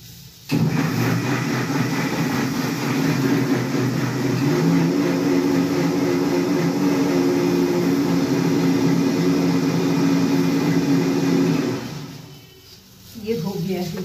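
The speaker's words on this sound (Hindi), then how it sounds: "ये उसको मिक्सी में पीस ले पहले" A mixer grinder runs steadily while grinding ingredients for sambhar in a home kitchen, a loud continuous whirring drone that stops abruptly near the end, with someone talking over it.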